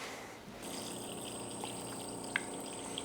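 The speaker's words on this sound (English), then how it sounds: "And then I top it off with water." A steady stream of water pours into a blender for a smoothie, a continuous close rushing and trickle with a faint tonal ring over it.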